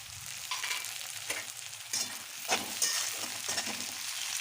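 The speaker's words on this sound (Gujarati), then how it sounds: "પછી નાખશું આપણે ટમેટાં," Tomatoes going into a sizzling pan for Chinese-style khichdi give a continuous close frying hiss, with a few brief stirring scrapes and pops and no voices.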